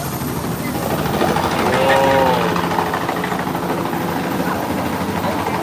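A helicopter passes by the summit of Sugarloaf Mountain in Rio de Janeiro, its rotor chop and engine drone building and easing under a constant blanket of outdoor wind and crowd noise, with voices around.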